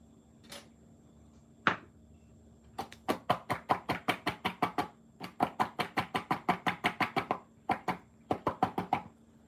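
A cakesicle mold filled with chocolate is tapped against a hard surface in quick repeated bursts of sharp knocks, close and clear, with brief pauses between the runs.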